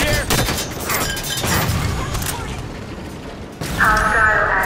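Rapid gunfire and heavy impacts in a Halo 5 firefight near crates, with a mounted turret in play, loud and continuous with booming bursts and mechanical clatter, voices shouting over the din.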